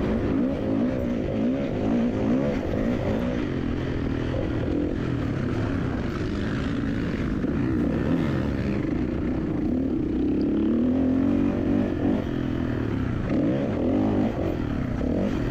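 A 2016 Kawasaki KX450 motocross bike pulls around a slick winter-series track, its engine a loud, close, continuous buzzing roar that rises and falls with throttle over fifteen seconds, with no talking.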